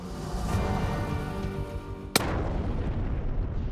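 A rifle shot fired at an antelope during a hunt in New Mexico: one sharp, loud crack in open country, with a short decaying tail over steady wind-like background noise, and no talking.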